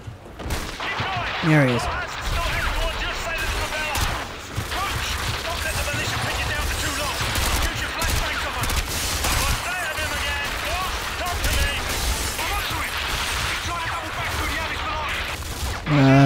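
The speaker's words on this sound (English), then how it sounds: "I hear a sniper rifle." Rifle fire from a sniper in the PC shooter Modern Warfare 2, set during a Russian mission, comes in sharp cracks over a constant loud din of battle, with a brief spoken line partway through.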